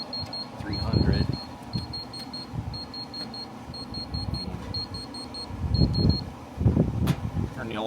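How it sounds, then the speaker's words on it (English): An alarm beeps in a workshop in short repeated high-pitched bursts, clustered in groups across the clip, while people talk loudly over a steady fan-like hum. "Turn the alarm off."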